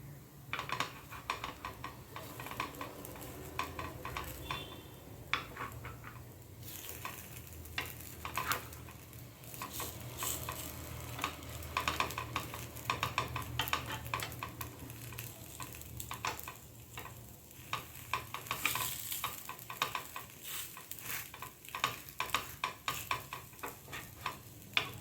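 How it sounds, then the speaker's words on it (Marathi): Aappe pan-roast in a pan, a soft sizzle running underneath while a utensil taps and scrapes as they are turned, close and low in level, with no voices. "आपण हे पलटी करून घेणार आहोत."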